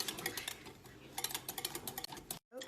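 Sauce stirred briskly in a pot off the heat, with a run of light metallic clinks and scrapes of a utensil against the pan, fairly close and steady, then a brief silence near the end.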